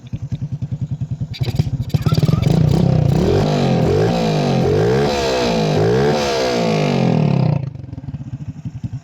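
A Honda RS 125 motorcycle engine, converted from fuel injection to a carburetor, idles with a fast putter, then revs up loudly and holds high, wavering revs during carb tuning before dropping back to idle, close and alone.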